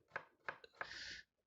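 A kitchen knife slices through an onion thinly on a cutting board: three quick, close chopping strokes, the last drawn into a longer scraping slice, with no one speaking.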